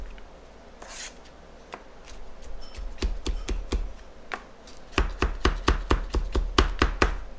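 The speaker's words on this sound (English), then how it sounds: "I like to pretty finely chop mine." A knife finely chopping garlic on a board, a sharp close rhythm of cuts that starts sparse and grows into a fast, even tapping toward the end, with no talk over it.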